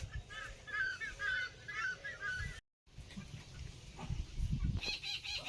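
A peacock trapped in a farm well calls during a rescue, with a run of loud, harsh, honking cries followed by a brief gap and more ragged calls against outdoor background noise.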